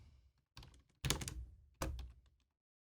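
A few separate bursts of computer keyboard typing, close and quiet, in three or four short clusters divided by brief silences, with no talking.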